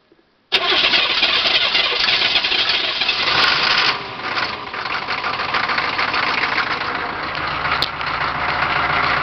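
An engine is cranked by its starter and catches, then settles into a steady, loud idle that runs alone, with no voices over it.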